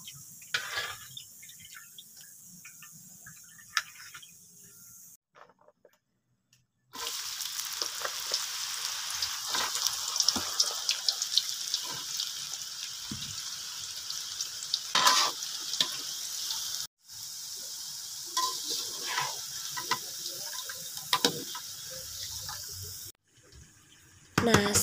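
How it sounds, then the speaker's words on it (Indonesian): Peanuts, tempeh, anchovies and potatoes frying in a pan at home, a steady hiss of oil sizzling in long stretches, broken by brief quiet gaps and occasional stirring clatter, fairly close. "Aku goreng semua bahan yang harus digoreng."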